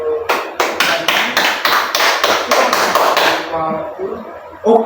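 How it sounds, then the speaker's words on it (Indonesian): A classroom group claps together in a steady, rhythmic beat for about three seconds, loud and close, before the clapping trails off and a voice briefly follows. "Silakan beri aplaus ke diri kita."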